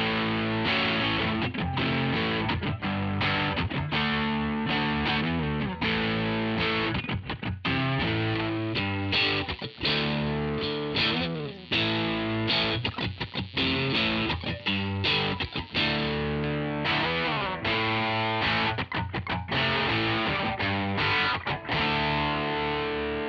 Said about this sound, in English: we're gonna get those slightly distorted crunch tones, and then we're gonna move it all the way up to get your gainy plexi sounds